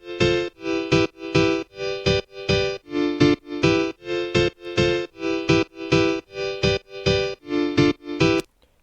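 A tropical house pattern built in FL Studio: bright, synthetic chord stabs hit in a steady, even rhythm of about sixteen short pulses, loud and close with no voice, stopping abruptly near the end.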